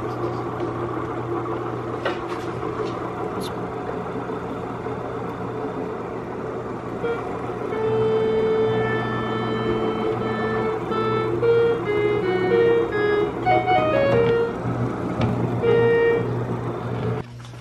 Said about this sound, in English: Now I'm going to turn on the Leslie using this switch provided right here.